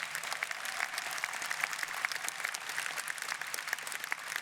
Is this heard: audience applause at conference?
yes